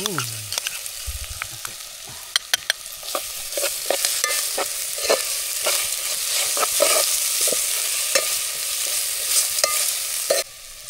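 Wet ground masala paste sautéed in oil in a pan at an outdoor village farm night cookout, with a steady sizzling hiss and frequent scraping, clicking spoon strokes while stirring up close.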